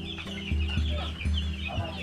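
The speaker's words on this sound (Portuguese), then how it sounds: "Aqui são 150 pintinhos que irão se tornar aqueles frangos gigantes de 5 quilos." Chickens and young chicks cluck on a farm where birds are raised into large meat fowl, a steady overlapping chorus of clucks and cheeps close by, with no talking.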